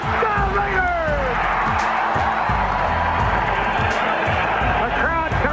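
Oakland Raiders football stadium crowd roaring after a 1974 AFC playoff touchdown against Miami, a dense, loud, sustained wall of cheering and whoops with a steady low pulse of background noise.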